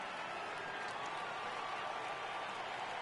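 A stadium crowd in the baseball video game MLB The Show 18 rises for a full count, a steady, dense roar of cheering and applause at constant loudness with no talking over it.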